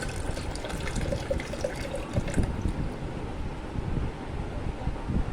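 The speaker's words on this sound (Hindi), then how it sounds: "अब ग्राइंडर में शामिल कर देंगे हम पानी," Water is poured into a grinder for mint lemonade, a steady splashing trickle that runs for several seconds at moderate loudness, with a slight hiss of background noise and no talking.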